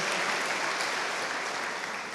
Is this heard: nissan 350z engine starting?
no